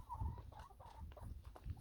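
A mother hen clucks repeatedly close by amid farmyard chores, her short murmuring calls rising and falling steadily with a few louder bursts.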